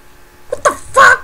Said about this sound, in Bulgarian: И мисля, че ще кихна.